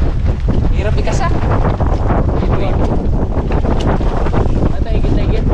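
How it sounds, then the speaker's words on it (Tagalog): Strong typhoon wind roars at sea around a boat, a constant loud buffeting rush across the microphone with water noise underneath. "lakas ang hangin"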